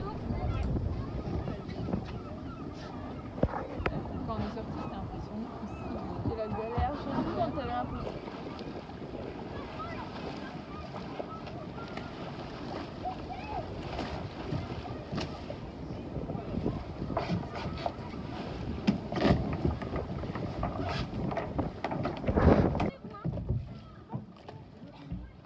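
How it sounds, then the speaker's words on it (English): A small sailboat moving through water back toward its mooring buoy near a sailing school at Treboul, with steady wind buffeting, water splashing against the hull and voices talking throughout. "And finally, Marie brings Telenn back onto her buoy by the sailing school at Treboul."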